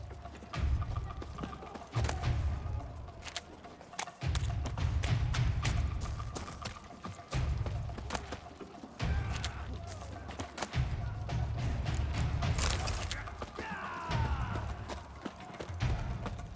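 Horse hooves clip-clopping in The Witcher 3: Wild Hunt video game, a steady rhythmic trotting that sounds soft and somewhat distant under ambient game sound.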